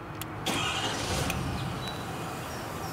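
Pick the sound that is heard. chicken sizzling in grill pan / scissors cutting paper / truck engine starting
truck engine starting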